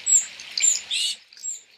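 A tufted titmouse feeding a fledgling, with a few quick, high chirps and begging calls in short bursts, fairly close and clear with nothing else around.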